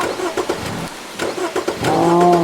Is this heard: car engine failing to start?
yes